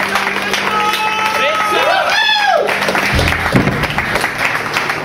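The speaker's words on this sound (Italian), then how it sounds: "Facciamo un bel applauso." Applause from a live concert audience at an experimental music tribute show, a steady wash of clapping and crowd noise with a whistle-like tone rising and falling midway.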